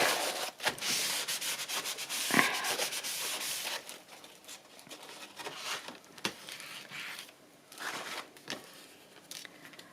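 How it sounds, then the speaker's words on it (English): A kitchen towel rubbing at a wedding folio, giving soft repeated rubbing and scuffing strokes with slight crinkles, close and quiet, with no talk. "A kitchen towel just to give myself something to rub with."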